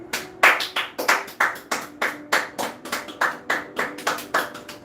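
Hands clap loudly and close in a steady, even rhythm, about a dozen sharp claps in quick succession with nothing else heard.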